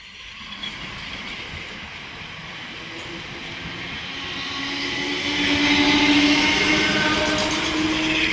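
A South Western Railway train stands at Earlsfield station on the South West Main Line, giving off a continuous rolling rumble. The rumble swells louder and brighter toward the end as the train moves nearby, and no voices are heard.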